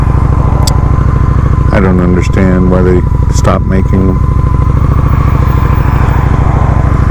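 A Honda Shadow 750 liquid-cooled V-twin idles loud and close with a steady, throbbing low rumble throughout, while someone talks over it partway through.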